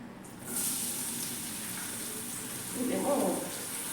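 Chopped onion and green chillies frying in a pan, a soft steady sizzle that starts abruptly as they hit the hot oil and carries on at low volume with some faint clatter.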